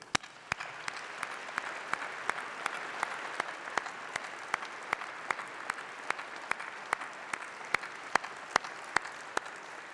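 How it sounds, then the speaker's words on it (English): A large audience at a university graduation ceremony gives a long, steady round of applause, a dense even roar of clapping with occasional louder individual claps rising out of it. "let's have a massive round of applause for all those special people, your family, your friends, and your tutors"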